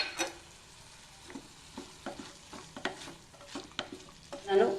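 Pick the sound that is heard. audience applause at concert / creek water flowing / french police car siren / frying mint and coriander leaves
frying mint and coriander leaves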